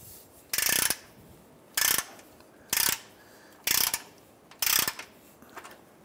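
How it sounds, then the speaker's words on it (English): A socket and ratchet work loose 14 mm bolts on a cross brace under a 2009-2015 Honda Pilot: five short, crisp clicking ratchet bursts at a steady pace, close up in a quiet setting. "We can use our socket and ratchet and remove this hardware."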